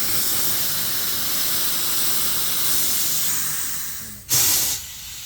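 Air rushing out of a motorcycle tire valve with its core removed, a steady broadband hiss that holds for several seconds, then a brief louder burst near the end before settling.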